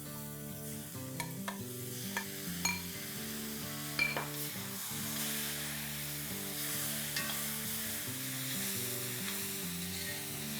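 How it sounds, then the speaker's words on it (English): Chopped tomatoes sautéing with well-browned onions in oil for a spicy dhaba-style chicken bhuna masala give a steady close sizzle, with clinks of a spoon against the pan scattered throughout. "I'm going to add 5 tomatoes that I have chopped here, and I'm going to saute till the oil separates."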